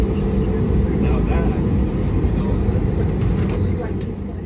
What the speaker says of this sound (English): ready for our takeoff to Aguadilla, Puerto Rico, a 5 years old Frontier Airlines Airbus A320neo